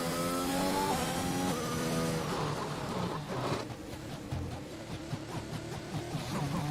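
A Formula 1 car in the F1 2021 racing game, lapping the Singapore circuit: a high, whining engine note climbs through the gears, then drops and revs again as it brakes and accelerates, moderately loud and continuous.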